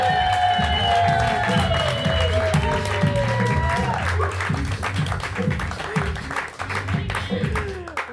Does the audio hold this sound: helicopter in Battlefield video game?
no